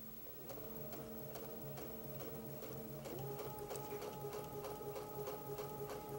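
A sewing machine stitches fabric held under the presser foot while quilting, with a steady fast mechanical rattle that runs throughout and shifts slightly in pitch midway, close and alone.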